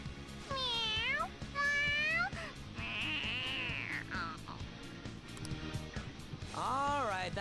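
Morgana, the cat in Persona 5 Royal, lets out a string of bright, rising-and-falling meows, several distinct calls in quick succession over a low game soundtrack, with a stretched wailing meow in the middle.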